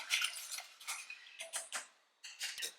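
A whisk clinking and scraping against a metal pot while a sauce thickens on the stove, heard as quiet irregular bursts of metallic ticking with brief pauses between strokes.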